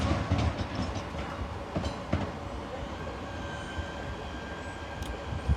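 At Tonbridge station, a train runs past as empty coaching stock bound for Tonbridge Jubilee Sidings, a loud, steady rumble with clattering wheels and occasional clanks.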